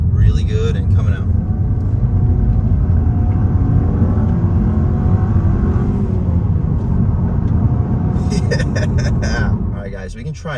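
A 2024 Mazda 3 Premium accelerates hard on a twisty road, its engine and road noise a loud, steady interior rumble throughout, with brief bursts of talk near the start and end.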